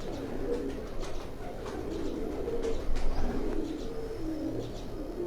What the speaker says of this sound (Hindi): ये मेरे हाथ में आप कबूतर देख रहे हैं, ये उन्हीं के घर के ये लाखे कबूतर जो हैं